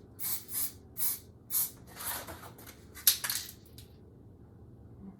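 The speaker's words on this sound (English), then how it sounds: "It's one of the things I really, really love about aerosol is you can kind of push it around a little bit." An aerosol spray paint can fires in about seven short, close hissing bursts, the first few evenly spaced and the later ones quicker and more clustered, then falls quiet with only faint room noise.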